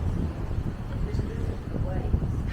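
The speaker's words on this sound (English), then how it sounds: "just listening to the waves and feeling the breeze" Steady breeze rumbles across the open deck of a Disney Wish cruise ship at sea, a continuous low wind wash with a soft water hush beneath it.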